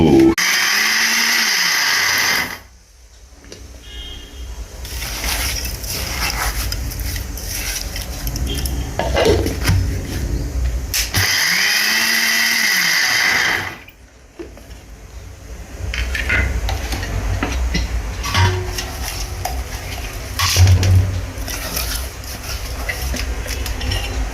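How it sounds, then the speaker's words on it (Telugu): A mixer grinder grinds red chillies with tamarind and salt for chutney, roaring in loud bursts separated by short pauses, with clinks of the jar in the gaps. "మధ్య మధ్యలో వాటిని వేస్తూ పచ్చగా వీటిని మిక్సీ వేసుకోవాలి అంతేగాని జ్యూస్ లాగా కాదు"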